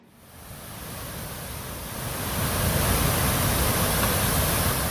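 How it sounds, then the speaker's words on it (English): Floodwater gushes over and washes away the Kinsman Lake Dam, a dense, steady roar of rushing water that swells in the first seconds and then holds loud and constant, with no voices. "Gushing water washing away the Kinsman Lake Dam, sweeping away the only road to a neighborhood."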